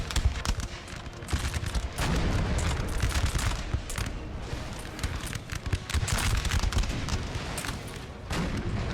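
Artillery fire in Napoleon Total War, a dense continuous battle din of booming cannon and crackling musket volleys layered over each other, loud and sustained throughout with no clear pauses.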